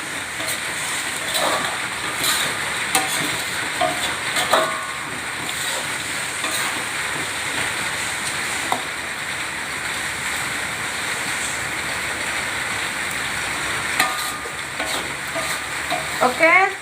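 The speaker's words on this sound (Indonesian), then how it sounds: "Kita aduk lagi." Cuttlefish cooked in spicy woku seasoning is stirred in a frying pan, giving a loud continuous sizzle with repeated spatula scrapes and clacks across the whole stretch.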